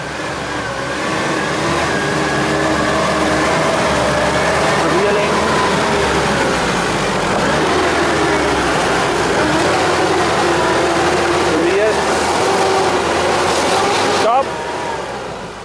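A Mitsubishi Pajero's engine drones steadily off-road on a ramp, the note rising and falling as throttle is added, with a brief change near the end and a voice talking over it.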